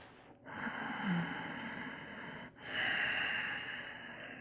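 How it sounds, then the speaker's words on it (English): Slow, calm breathing during yoga Shavasana at the close of a practice: two long, soft, steady breaths, each a drawn-out airy rush, heard up close and quiet with no talk. "Taking a few calming breaths here in our Shavasana to close out our practice"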